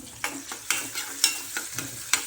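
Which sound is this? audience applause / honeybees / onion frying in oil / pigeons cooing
onion frying in oil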